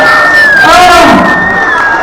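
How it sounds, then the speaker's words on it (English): A loud audience, including children's voices, cheering and whooping together in a sustained burst of excited crowd noise that stays close and strong throughout. "Big round of applause for me."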